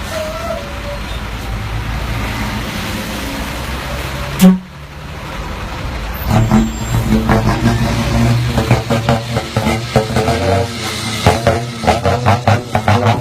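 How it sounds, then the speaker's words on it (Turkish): A Ford Cargo truck's engine is revved, a loud, close rumbling drone that swells after a brief sharp knock and rises into pulsing surges of throttle. "ara gazı yapsana"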